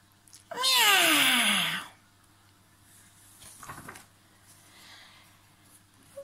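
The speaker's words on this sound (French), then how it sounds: "On va le garder, le minou?" A single loud, drawn-out cat meow near the start, followed by quieter rustling and a soft murmur.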